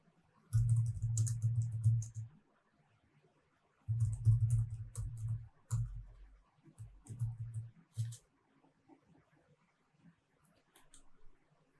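A computer keyboard is typed on in a few short bursts of close, quiet key clatter, separated by pauses of near silence, with no one talking.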